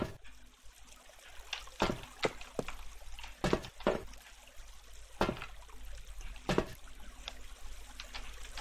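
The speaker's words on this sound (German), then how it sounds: "Soll das hier eine Dusche darstellen?" Shower water runs in Minetest, a soft continuous trickle and dribble over a low steady hiss, broken by scattered louder splashing taps.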